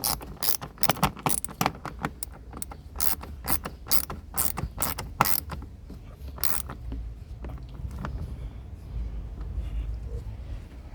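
Ratchet wrench clicking as a 10 mm bolt is tightened on a 2014 Mercedes-Benz ML350 during a misfire repair, a run of quick, close, sharp clicks in bursts over the first seven seconds, then fading into a low steady hum.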